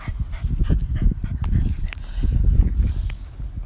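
A dog whimpers and shuffles about close by, with short soft whines and scrabbling, thumping movement sounds in an irregular rhythm and no talking.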